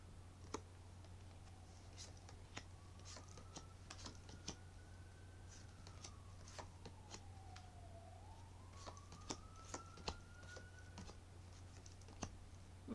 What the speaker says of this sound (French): désolée si vous entendez le bruit des ambulances